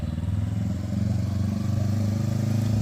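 A motorbike is ridden past nearby, its engine putting out a steady pulsing mid-pitched drone that rises slightly toward the end.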